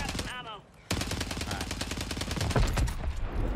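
Rapid automatic gunfire in the video game Call of Duty Warzone, a dense, steady stream of shots that breaks off briefly near the start and then resumes, loud and continuous, with faint voice underneath.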